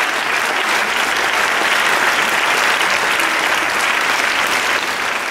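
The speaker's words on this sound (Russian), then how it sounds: "Ваши аплодисменты, друзья!" Sustained, loud audience applause fills a Palace of Culture hall during an anniversary concert of a children's arts school, an unbroken wash of many hands clapping at an even level.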